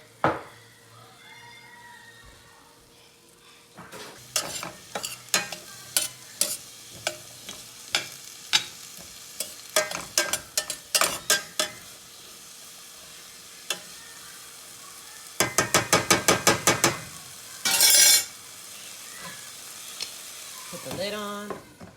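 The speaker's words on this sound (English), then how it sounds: "And I let that cook for about 10, 15, 20 minutes sometimes if the potatoes are Idaho potatoes." Red potatoes frying in a pan with a faint background sizzle, cut through by frequent sharp scraping and clacking as they are stirred, with a burst of rapid knocks near the end and no talk.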